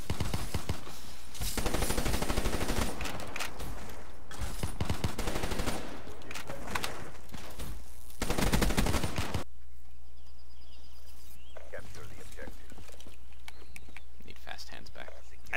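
Bursts of gunfire in Black Ops 3 multiplayer Domination on the Nuk3town map, loud rapid automatic volleys in several separate clusters, then a quieter stretch of game ambience.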